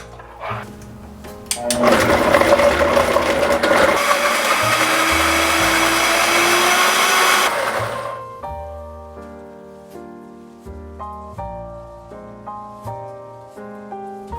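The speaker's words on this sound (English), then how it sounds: "And now we're going to blend." A blender whirs loudly for about six seconds as it purees an emulsified, nut-free vegan mixture with a pinch of salt, starting abruptly and then winding down, followed by quieter musical background.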